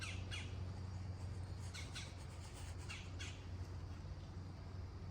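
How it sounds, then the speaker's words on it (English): Birds squawking and chirping outdoors on a clear fall day, a few short calls in the first seconds over a steady low background hum. "Birds out chirping, clear skies."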